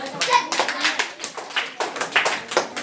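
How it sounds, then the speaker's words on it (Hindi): Students in a classroom applaud during a general-knowledge quiz. Their hand claps come in quick, uneven, closely spaced bursts of moderate loudness that last the whole time. "जोरदार तालियां"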